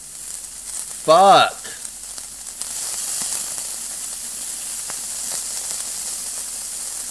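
A red-hot 1000-degree knife slicing into cheese, which hisses and sizzles steadily as it boils and pops, with a brief loud exclamation from a man early on.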